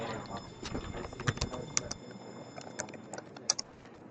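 Computer keyboard typing, with scattered quick keystrokes and clicks up close, denser early on and sparser later, over a faint quiet room.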